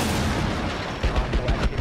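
Desert Eagle pistol fire in the tactical shooter Rainbow Six Siege, with a few sharp, punchy shots in quick succession over noisy in-game ambience.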